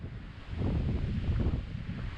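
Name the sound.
wind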